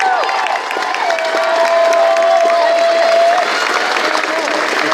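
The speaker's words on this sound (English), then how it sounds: "give a hearty round of applause for our senior advisor, Ms. Doss." A graduation ceremony audience claps steadily and loudly, with scattered cheers and crowd murmur throughout, and a sustained tonal sound running beneath the applause.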